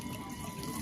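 Water poured out by hand as a tarpan offering to departed ancestors on Mahalaya, a steady close trickle and splash running unbroken through the short moment with no voices.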